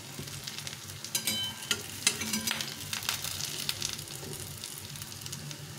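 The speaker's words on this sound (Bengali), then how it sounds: "সুন্দরভাবে দুপাশে ভেজে দিতে হবে" Breakfast food fries in a pan with a quiet, steady sizzle, joined by occasional soft scrapes and clinks as it is turned.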